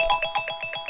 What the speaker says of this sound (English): This is the sound of a timer.